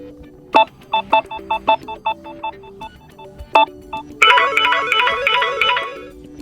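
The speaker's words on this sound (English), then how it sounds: "now select new alarm sound from the list of the system sounds" A Samsung Galaxy A13 alarm sound: a series of short electronic ringtone beeps in a rhythmic pattern, followed by a brighter, busier chiming melody, clear and close.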